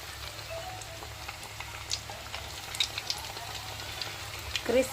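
Vadas frying in hot oil over a low flame, a soft steady sizzle with faint crackling pops scattered through it, quiet and close, with someone speaking over it.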